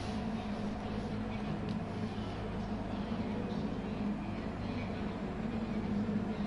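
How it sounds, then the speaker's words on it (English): Race car engines in a racing game, a dense, steady low drone of several cars holding revs on the starting grid, loud and continuous without clear peaks. "So you hear the engine noise go up as the lights start to come on."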